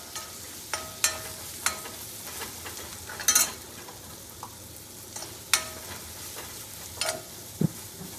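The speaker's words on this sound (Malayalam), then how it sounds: "അതിലേക്ക് നമ്മൾ എടുത്തു വെച്ച ചെറിയ ഉള്ളിയും കൂടെ ഇടാം. എന്നിട്ട് നന്നായിട്ട് ഒന്ന് വഴറ്റിയെടുക്കാം." Shallots sautéing in a pan for Kerala-style cauliflower thoran: a steady low sizzle broken by occasional sharp spoon clacks and stirring scrapes, close by, with no voices.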